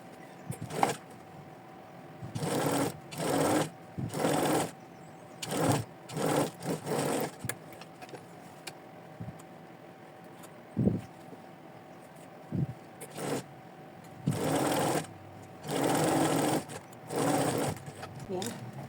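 A sewing machine runs straight side seams on a skirt in a series of short, close whirring bursts of stitching, separated by pauses and a few soft clicks.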